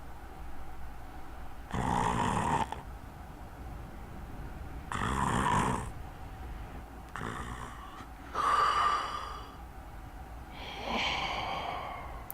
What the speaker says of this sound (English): And then he sleeps, and if we talk to him again, he snores.